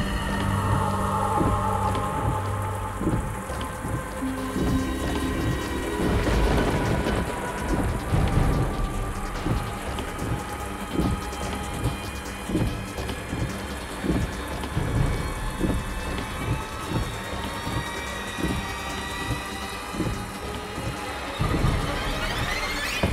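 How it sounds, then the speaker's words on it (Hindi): Heavy rain pours down steadily with repeated rumbling thunder, a dense, loud downpour with sharp drop impacts throughout. "इतनी तेज बारिश हो रही है,"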